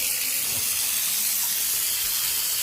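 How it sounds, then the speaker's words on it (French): Water runs steadily into a bathtub and drains away freely, a continuous close hiss and splash with no talking over it. "je vois que la baignoire, elle coule très bien"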